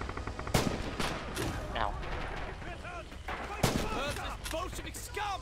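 Gunfire in the World War II shooter game Red Orchestra 2 on the Spartanovka map, repeated sharp rifle and machine-gun shots with distant battle rumble and cracks, and a player voice cutting in briefly.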